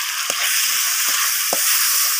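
Spiced food fries loudly in a pan over a clay stove, a dense continuous sizzle heard up close. A spoon scrapes and stirs through it three times, and no one talks.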